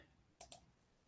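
A computer mouse gives two sharp, quick clicks in close succession at a desk, crisp and close against near silence.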